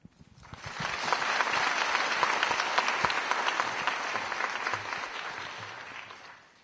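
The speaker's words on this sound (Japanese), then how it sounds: "今一度ご登壇の皆様に大きな拍手をお願いいたします。" Applause from a symposium audience after a panel discussion on robotics, swelling quickly, holding as a dense patter of many hands for several seconds, then fading out.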